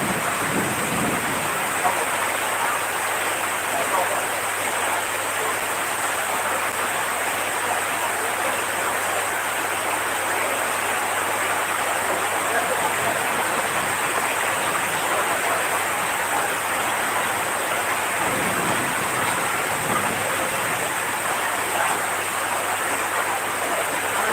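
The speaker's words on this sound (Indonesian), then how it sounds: "Hujan masih, hujan." Heavy rain pours steadily during an outdoor live music event in strong wind, a dense continuous hiss throughout with faint voices and a low droning hum underneath.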